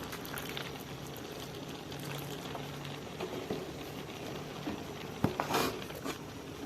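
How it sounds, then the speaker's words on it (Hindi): Milk is poured into carrot halwa cooking in a pan, giving a steady liquid pour over soft bubbling and sizzling, with a brief louder splash near the end and no talking. "दूध आधा आधा करके शामिल कर रही हूँ।"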